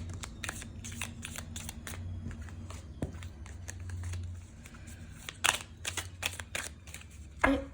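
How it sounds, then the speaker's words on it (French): Tarot cards shuffled and cut by hand, giving soft riffling and sharp clicks in irregular bursts, close and quiet, with a faint low hum underneath. "Alors, je vais couper, mélanger un petit peu endroit envers."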